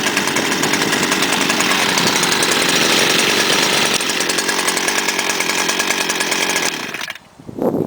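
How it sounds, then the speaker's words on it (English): 2012 STIHL FS-250R 40.2cc trimmer/brushcutter engine running at high revs, a loud, close, steady two-stroke buzz that holds for several seconds before briefly dropping off and picking back up. "the newest addition to my STIHL trimmers, the 2012 FS-250R"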